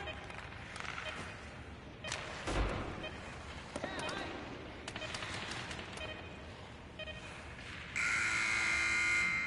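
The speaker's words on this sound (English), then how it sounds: "And the buzzer sounds." In the NHL 18 hockey video game, arena crowd noise and sharp clacks lead into a loud, sustained end-of-game buzzer that sounds for the final seconds.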